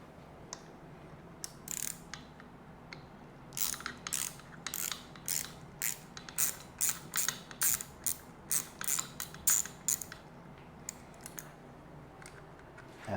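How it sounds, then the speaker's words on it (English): A T25 Torx screwdriver loosens the screws of a Harley-Davidson handlebar switch housing, giving about a dozen short, sharp ratcheting clicks in quick bursts, close up and fairly quiet, with no talking. "we're going to use a T25 to loosen the switch housing"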